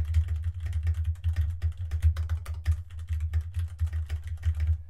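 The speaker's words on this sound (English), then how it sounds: "If I'm typing on a keyboard, that's with the mic behind the keyboard here." Rapid typing on a computer keyboard with a microphone placed just behind it, a dense run of close, even key clicks and thumps over a low steady hum, with no talking.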